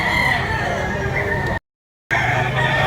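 A rooster crows loudly at a gamefowl market amid continuous clucking and fowl noise, broken by a brief gap of silence before the bird calls resume.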